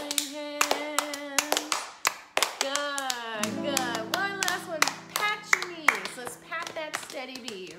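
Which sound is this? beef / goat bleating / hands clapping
hands clapping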